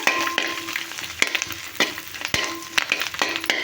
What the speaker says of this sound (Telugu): కరివేపాకు వేసాను ఇదిగోండి బాగా ఫ్రై అవుతుంది కదా